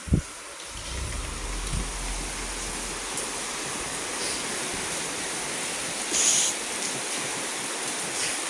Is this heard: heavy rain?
yes